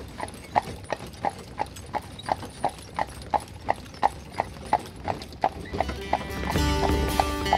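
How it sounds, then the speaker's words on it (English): Horse hooves clip-clop in a steady, even rhythm as a horse-drawn carriage rolls along, with clear repeated strikes, a louder wash of noise building toward the end and faint talk in the background. "there's a horse and carriage ride waiting for us"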